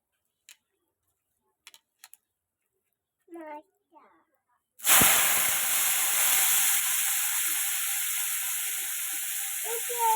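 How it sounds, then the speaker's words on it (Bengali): Carrots frying in a pan: a few soft clicks and a brief voice, then a sudden loud burst of hissing sizzle that settles into a steady crackling fry close by. "এবার আমি গাজরটাকে ভেজে নেব"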